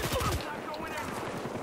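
Rapid bursts of gunfire in the Battlefield Hardline multiplayer game, heaviest in the opening fraction of a second and then continuing as a softer, denser crackle.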